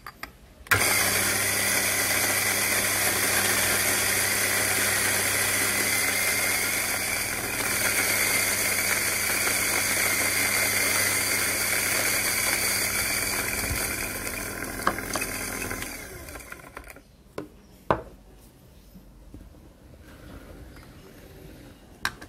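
An electric coffee grinder set to 2.5 grinds 15 grams of coffee beans with a loud, steady whirring drone for about fifteen seconds, then cuts off, followed by a few faint knocks and clicks.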